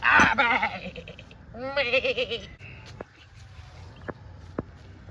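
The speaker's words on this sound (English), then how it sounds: "Get on, you stupid goat!" A goat bleats in an ancient Egypt strategy video game, two wavering bleats near the start, followed by quieter game ambience with a few sharp clicks.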